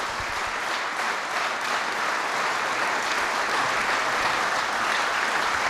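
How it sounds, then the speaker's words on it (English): Sustained applause from a large crowd, loud and continuous, clapping blending into a dense wash with no pauses. "Would you give them all another round of applause?"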